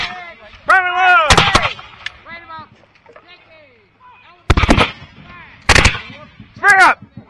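Musket volleys at a historical battle reenactment in 2023 crack out as loud, sharp bursts of gunfire. Shouted drill commands are heard between the shots.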